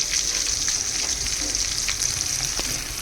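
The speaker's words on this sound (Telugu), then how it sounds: "కొంచెం ఆనియన్స్ ఫ్రై అవ్వాలి." Onions fry in a pan with steady sizzling and hissing. The crackle is close and continuous, with occasional stirring noises and no talk.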